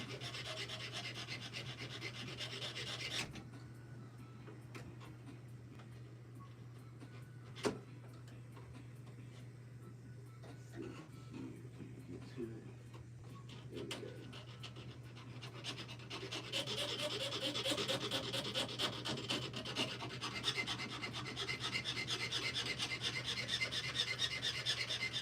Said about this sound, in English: I got a little beam down here I'm trying to file because I don't want to cut it